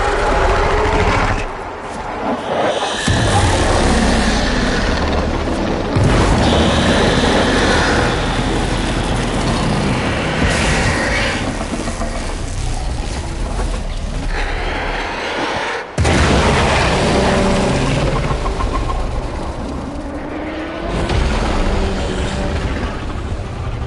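Loud rumbling blasts and booming impacts in Warframe, a dense roar broken by several sharp cuts and bursts over roughly twenty seconds, with no voices.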